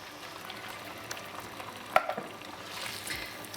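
Coconut milk heating gently in a pan for a Thai green curry, a faint steady sizzle and soft bubbling with one small clink, quiet and without talk.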